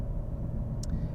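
The engine of a 2020 BMW M850i Gran Coupe in Sport Plus mode produces a steady, deep rumble heard from inside the cabin, continuous and unbroken for about a second, with no one talking.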